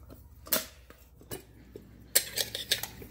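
Metal clinks and clatters from a Stanley cook set, a pot with nested cups, as it is handled nearby: a few sharp isolated knocks, then a quicker cluster of rattling contacts, fairly quiet overall.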